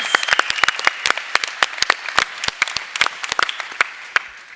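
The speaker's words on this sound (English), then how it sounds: "Can we give that a round of applause," An audience at a YMCA World Council plenary session claps steadily, crisp individual claps standing out in a lively, moderately loud round of applause.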